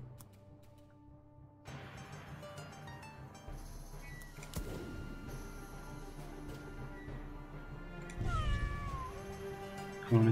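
A cat meows, a few times, over steady background music and game sounds, loud and close near the end.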